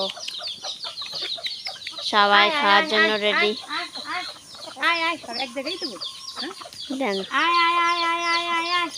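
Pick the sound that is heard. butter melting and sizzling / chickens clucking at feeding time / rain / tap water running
chickens clucking at feeding time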